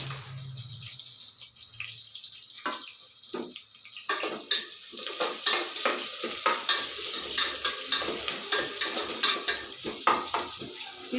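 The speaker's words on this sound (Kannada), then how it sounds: "ಈಗ ಎಣ್ಣೆ ಕಾದಿದೆ ಹಾಕ್ತೀವಿ ಈರುಳ್ಳಿ ಕರಿಬೇವು ಹಾಕ್ತಿದ್ದೀನಿ" Onion and curry leaves sizzle in hot oil for vegetable pulao, a continuous crackling fry that grows busier midway, joined by steady rhythmic scraping of a spoon stirring in the pan, close and with no talking.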